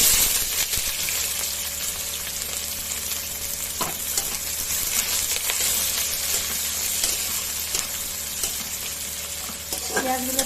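Bay leaves and onion, with slit green chillies, fry in hot oil in a pan, giving a steady loud sizzle with occasional stirring clatter throughout.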